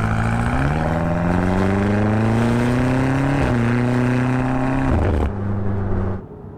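BMW M8 Competition with a 4.4-liter twin-turbo V8 revving and accelerating hard through several gear changes, a loud, close, continuous engine roar rising in pitch and dropping at each shift before cutting off near the end.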